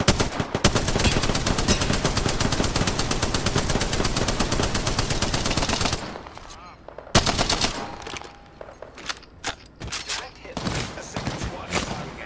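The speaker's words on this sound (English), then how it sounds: "Oh, sniping from the ship." Sustained rapid machine-gun fire from a ship in a battle-royale video game rattles loudly for about six seconds, then breaks into scattered single gunshots and shorter bursts.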